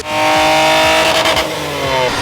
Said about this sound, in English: Now they're just prepping the cars on the dyno over there